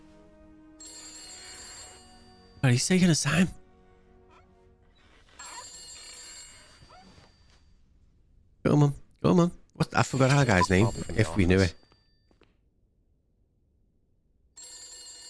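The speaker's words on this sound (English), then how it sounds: "we need to go and answer that phone before they hang up" Old telephone bell in The Beast Inside rings in several loud repeated bursts while someone talks over the gaps.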